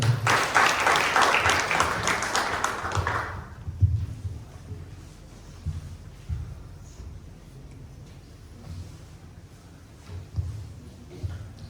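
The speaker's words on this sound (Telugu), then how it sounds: "మనందరం కూడా చప్పట్లు కొట్టి ఆహ్వానం." A church congregation applauds to welcome the pastor at a Sunday service, a dense burst of clapping for about three seconds that stops abruptly, leaving quiet room sound with faint low thumps.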